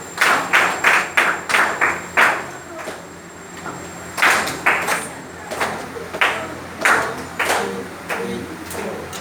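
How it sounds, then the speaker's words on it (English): A classroom group claps a counted rhythm during a music lesson on time values, rests and ties: sharp, evenly spaced claps in short bursts separated by brief pauses, fairly close and clear. "Why are you clapping now?"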